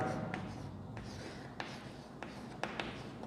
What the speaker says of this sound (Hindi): तो सबसे पहले मैं वर्ब को लिखता हूँ